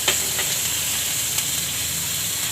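Asafoetida and ginger-garlic-chili paste sizzle steadily in hot oil with cumin seeds for a Gujarati stuffed gunda shaak, a close, continuous frying hiss with a few sharper crackles and pops.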